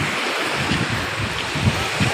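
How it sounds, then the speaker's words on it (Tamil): Sea waves wash up on a beach at Ramanathapuram with a continuous rushing, hissing surf, loud and close, mixed with gusty wind buffeting the microphone. "தண்ணி பாருங்கள் நம்மளை தொட்டுட்டு போகுது"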